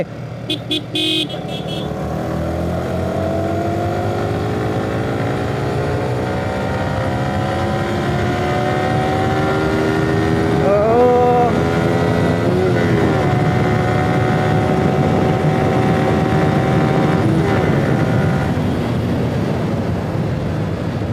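Two Yamaha R15 V3 motorcycles, a BS6 and a BS4, rev at the start of a one-kilometre road drag race. Their engines drone loudly and steadily with rising pitch sweeps, and voices can be heard faintly in the background.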